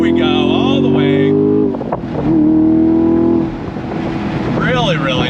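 A 2024 Chevrolet Camaro SS accelerates at full throttle, its loud engine note rising and shifting in pitch across several surges, with a brief dip mid-run before climbing again.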